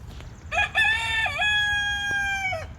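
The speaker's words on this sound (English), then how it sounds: "That's our mean rooster." A farmyard rooster crows once nearby, a loud, drawn-out cock-a-doodle-doo with a rising opening and a long held final note, standing clear over quiet outdoor background.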